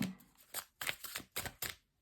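Tarot cards being shuffled by hand, a series of quick papery riffles and slaps in several bursts with short pauses between, close and fairly quiet with no talking.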